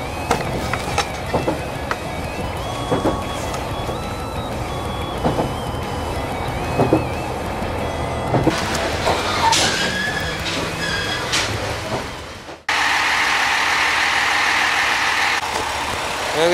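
The Super Oki limited express train rumbles and clanks into Yamaguchi station with intermittent squeals and knocks, then cuts abruptly to a steady, louder hum of the train standing.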